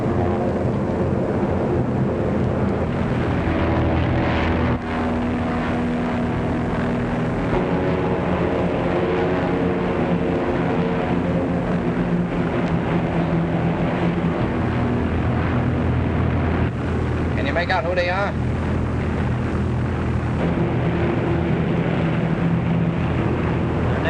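Navy planes drone overhead in a 1936 film, a steady engine hum holding throughout under a brief line of talk.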